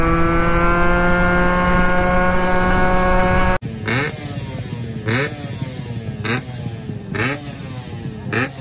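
A Yamaha RXZ two-stroke motorcycle engine buzzes at a steady high idle, then cuts sharply into a series of rising and falling revs, loud and close, with no talking.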